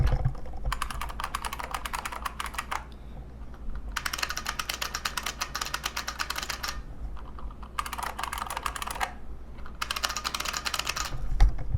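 Rapid clattery typing on IBM Model M and Model F buckling-spring keyboards, close and crisp, in bursts of a few seconds separated by short pauses, with no voices.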